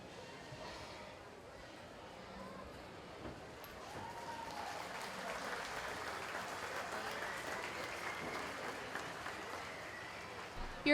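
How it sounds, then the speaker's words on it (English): Audience applause at a 4-H and FFA market steer show for breeding exhibitors, a steady wash of clapping that swells and holds for several seconds, with voices murmuring underneath. "give all of our breeding exhibitors a nice round of applause on a job well done"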